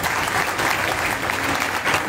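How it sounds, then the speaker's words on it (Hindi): Steady, full applause from a gathered audience at a Bhagwat katha in Hapur, Uttar Pradesh, many hands clapping together in a thick continuous wash. "ताली बजाओ जोर से"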